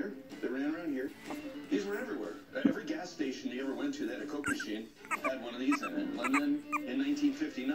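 A three-week-old Boston Terrier puppy whimpers and yips in repeated high, wavering cries close by, with a person talking softly over some of them.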